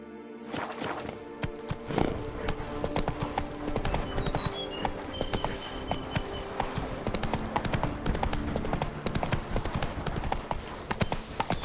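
Roach the horse trotting in The Witcher 3, a steady clip-clop of hooves close by with a brief whinny-like burst early on, over a busy game soundscape of ambient music and effects.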